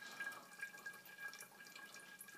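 Water trickles and drips steadily from one bottle into another in a home water ionizer, a faint continuous patter of small drops with no voices.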